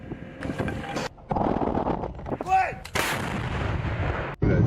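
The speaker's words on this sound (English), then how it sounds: "this Russian 2AS-7 artillery was deployed to shell Ukrainian city" A Russian 2S7 self-propelled artillery gun fires while shelling, heavy booming blasts with wind buffeting, a couple of loud bursts separated by short gaps, heard outdoors without speech.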